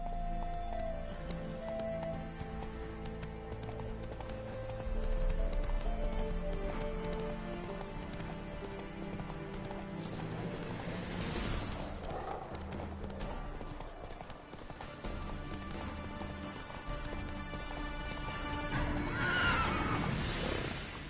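A horse gallops in The Witcher 3 with steady, continuous hoofbeats and neighs now and then, set in a dense game soundscape for the whole stretch.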